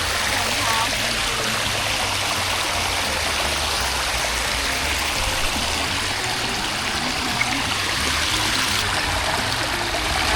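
Huai Kaeo waterfall stream in Chiang Mai flowing steadily, a constant broad rushing of water close by that fills the whole stretch without pause.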